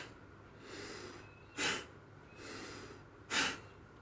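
Rapid, forceful kundalini breathing: softer drawn-in breaths alternate with two sharp, loud exhales shot out through the nose, close up in a steady in-out rhythm.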